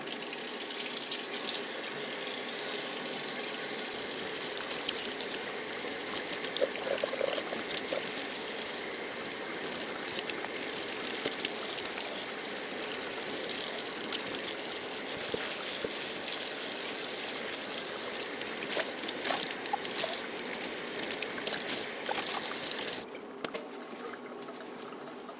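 Tap water runs steadily and close over an ice-dyed tie-dye sash being rinsed out in a sink. The water flows continuously with splashy variation for about twenty-three seconds, then shifts to a softer flow near the end.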